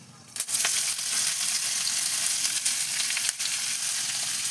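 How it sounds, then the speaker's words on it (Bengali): Chopped onions hit hot oil in a kadai with bay leaf and whole garam masala, a sudden loud burst of sizzling that settles into a steady, close frying hiss with a few stirring clicks. "এই যে কুচনো পেঁয়াজ দিয়ে দিচ্ছি"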